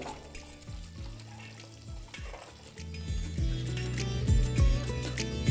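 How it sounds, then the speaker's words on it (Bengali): Close, crackling sizzle of boiled eggs frying in hot oil, growing louder, with faint background music. "এই একই তেলে আমি কয়েকটা সেদ্ধ করা ডিম ভেজে নেব"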